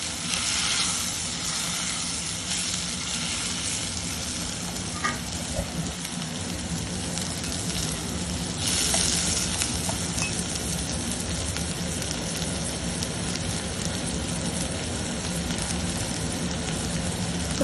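Spices sizzle in a pan for tomato charu, with a dense, even hiss like rain that continues loudly and without letup.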